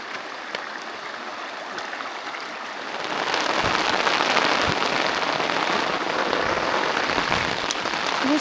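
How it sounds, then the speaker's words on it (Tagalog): Heavy rain pours steadily on a mountain trail on Mt Tapulao, a dense, continuous hiss that thickens and grows louder about three seconds in, with no voices. "This is probably my first experience sa hike na sobrang lakas ng ulan"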